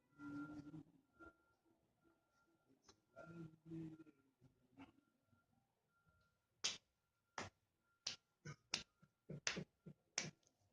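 A run of about a dozen crisp finger snaps, close and dry, comes in an uneven, quickening rhythm as self-applause. It follows a quieter stretch of soft handling sounds.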